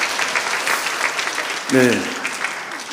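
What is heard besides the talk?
church congregation applauding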